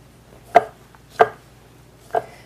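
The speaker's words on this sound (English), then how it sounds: "So I'm going to cut up some berries." A knife chops ripe berries on a cutting board in three crisp, separate strokes, close and clear with short pauses between them.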